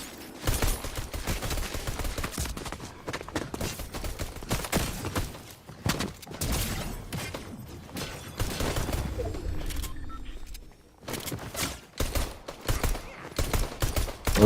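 Rapid automatic weapon fire in a Fortnite match, dense repeated bursts of shots nearly continuous for most of the stretch, with brief gaps and loud close-range impacts.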